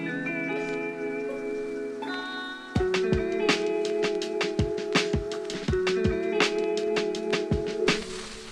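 A reversed chord swells up on a reverb layer as an alternative hip hop intro built in Ableton Live 11, sustained tones rising before punchy drum hits cut in and repeat.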